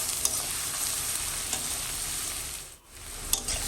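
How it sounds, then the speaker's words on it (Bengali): Chopped onion and crushed garlic frying in a pan, a dense close sizzle with a few light stirring clicks and a brief dip near the end. "এখানে পেঁয়াজ কুচি, রসুন থাতলানো দিয়ে একটু নাড়াচাড়া করার পরে"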